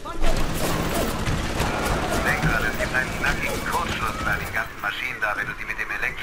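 Automatic turret fire in the video game Bioshock, a dense sustained burst of rapid shots and booms layered over continuous game noise, loud and unbroken for several seconds.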